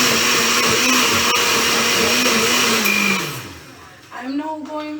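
A blender purees pumpkin for Jamaican pumpkin punch, a loud steady motor whine that holds for about three seconds, then winds down and briefly restarts with a rising pitch.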